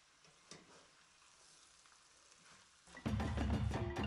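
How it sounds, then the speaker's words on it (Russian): Chinese-style rice warms in a covered frying pan over low heat, a faint crackle at first that jumps to a loud, dense sizzle for the last second, with no voices. "Сковороду накроем крышкой и прогреваем наш китайский рис на небольшом огне еще 3 минуты."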